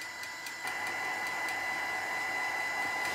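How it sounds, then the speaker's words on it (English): Steady whir of a heat tool drying gel medium on an altered rustic bottle, starting slightly quieter then holding a constant loud blowing hiss with faint clicks. "trying not to overheat it, I will just dry from different angles"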